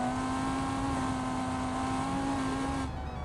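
A modded Lamborghini Gallardo in the driving game BeamNG gives a loud, steady, high engine whine at sustained revs, then drops off near the end.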